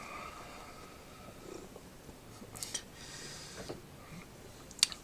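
A house cat purring close by, a faint, steady low rumble with soft breathing and no talk.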